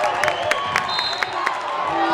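A high school basketball crowd cheering and clapping in a gym, a dense steady roar with sharp claps and shouts throughout, with a commentator talking over it.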